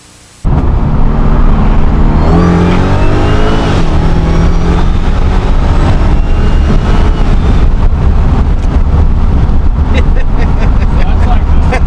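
An 800-horsepower car engine roars loudly and close, revving and accelerating uphill in hot air with a steady, powerful drone that climbs in pitch, along with some wind buffeting.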